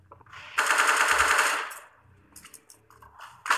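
Rapid automatic gunfire from a rifle in the video game CS:GO, one loud sustained burst of about a second, followed by fainter scattered shots and clicks in the background.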